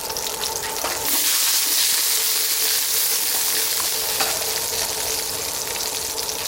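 Carrots sizzle and fry in a pot at a campsite while cooking a pot roast, a loud continuous crackling hiss that flares up sharply after a moment and then holds steady close by.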